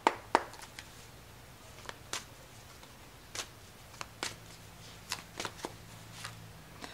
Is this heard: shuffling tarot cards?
yes